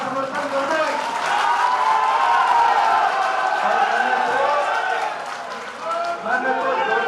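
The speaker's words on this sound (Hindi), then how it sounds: "यहाँ जितने भी लोग हैं एक बार ताली बजाकर इस बात का समर्थन कर दें।" A crowd at an Indian Congress party joining event claps and cheers in a sustained, loud wave of applause, with voices mixed into the noise throughout.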